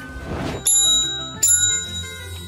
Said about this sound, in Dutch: Oh, deze bel is zo luid.